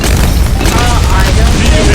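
In the Bloons tower-defense game, a shrapnel shot fires in a loud, dense, continuous burst of booming blasts that lasts the whole moment without a break.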